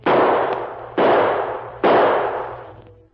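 Three loud gunshot bursts roughly a second apart in a radio drama, each a sharp crack with a long decaying tail, heard alone without voices.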